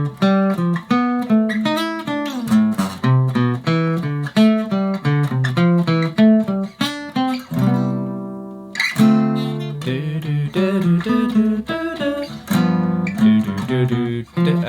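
Jazz guitar plays arpeggios over a 2-5-1 progression, with clean single notes in quick flowing runs. A short sustained chord sits in the middle, then the runs continue. Loud and close, with no talking.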